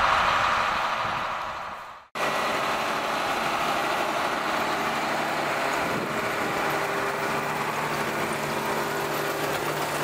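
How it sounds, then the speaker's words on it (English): A tractor engine rumbles steadily during a peanut harvest on a farm, a continuous loud drone with a brief dropout near the start, then constant running with no talk. "So let's watch the tractor come by."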